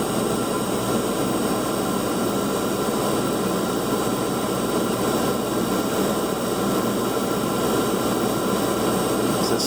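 A Beckett oil furnace burner running after a call for heat produces a loud, constant broadband roar with a steady low hum, close and unbroken throughout, with no voices.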